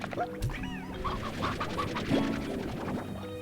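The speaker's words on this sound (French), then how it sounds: "On n'oublie pas la petite poule." Clucking and quacking poultry calls from the Slime Rancher video game, several short chirpy calls over a busy game soundtrack, fairly quiet.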